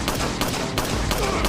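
Rapid gunfire in Resident Evil 4 Wii Edition, a burst of loud sharp shots in quick succession, several cracks within a second and a half, with no talk.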